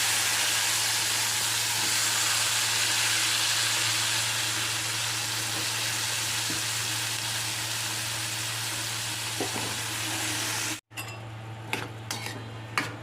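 Garlic and a pinch of asafoetida fry in a pan over a gas flame with a steady, dense sizzle that cuts off abruptly, followed by a few light clinks of utensils.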